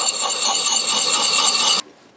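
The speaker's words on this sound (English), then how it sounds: "Going to start with circles on the coarse side of the stone." An axe blade is rubbed in circles on the coarse side of a sharpening stone, giving a loud gritty rasping scrape that runs steadily and then stops abruptly, with no talking.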